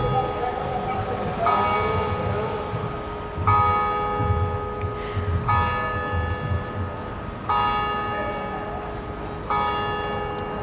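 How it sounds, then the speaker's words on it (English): A town church bell strikes the hour with loud, resonant, evenly spaced strokes about two seconds apart, each ringing out over a low background rumble. "I always like counting the number of beats that the town bell makes to make sure that it's correct, and it was 11 beats for 11 a.m."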